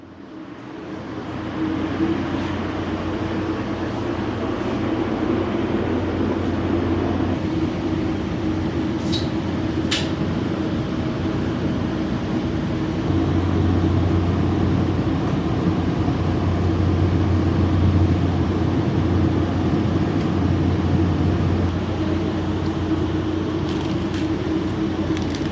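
Steady rumble of a commuter train carrying passengers toward Miami airport, a continuous low hum with a hard tonal drone and faint rattles, holding even and loud throughout with no voices.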